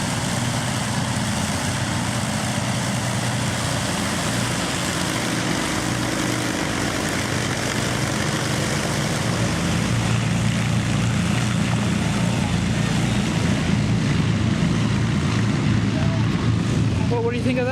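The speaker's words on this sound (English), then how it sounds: "the groaning noise of the Huge engines." Avro Lancaster NX611 at East Kirkby running its huge piston engines, a steady loud droning groan with propeller throb that holds throughout and swells slightly toward the end.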